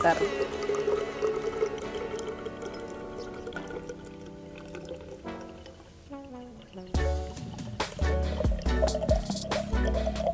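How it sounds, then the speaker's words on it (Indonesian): Rainwater from a rain gauge pours into a measuring glass in a steady trickling stream that shifts in tone as it fills, with a person talking over it throughout. "Yang harus kita lakukan adalah mengisi gelas ukur hingga mencapai 25 mm."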